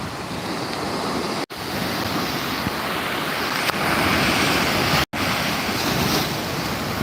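Rushing surf and wind roar continuously at Gandhi Beach, Pondicherry, in rain, a dense wash of breaking water with wind buffeting the microphone and two brief dropouts.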